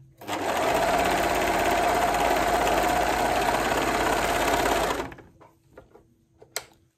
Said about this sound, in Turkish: Bir miktar dikiyorum.